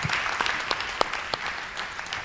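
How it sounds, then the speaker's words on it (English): An audience at a business talk applauds together, a brief steady wash of many hands clapping with a few sharper claps standing out. "Can we please give them another round of applause?"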